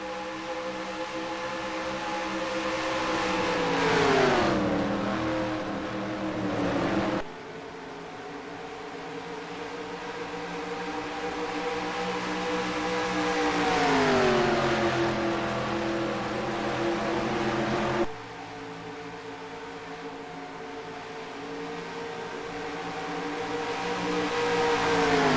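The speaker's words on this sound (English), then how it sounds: "Real hardcore racing here at Charlotte Motor Speedway." Race cars roar around Charlotte Motor Speedway, each pass rising and falling as the engines approach and sweep by, several loud waves of engine noise in a continuous racing drone with no voices.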